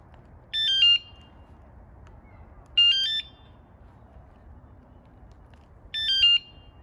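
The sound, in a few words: electric scooter alarm sound played by remote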